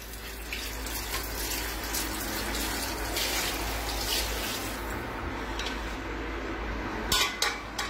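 Water poured into a pot of tomato sauce for stuffed artichokes, a continuous splashing, running-water wash with faint clinks of kitchenware, ending with a few sharper knocks; no talking.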